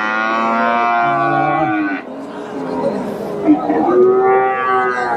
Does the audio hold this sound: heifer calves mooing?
yes